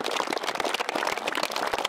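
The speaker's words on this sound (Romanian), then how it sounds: "haideți să aplaudăm." Audience applause for deputy mayors at a mini-football tournament, dense steady clapping from a crowd filling the whole moment, fairly close and even in loudness.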